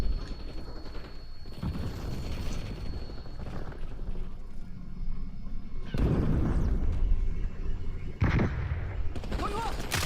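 An enemy grenade goes off in a video game as a heavy, booming blast, followed by further sharp explosive bursts amid the ongoing sounds of combat.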